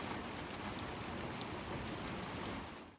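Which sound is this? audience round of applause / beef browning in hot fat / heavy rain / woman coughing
heavy rain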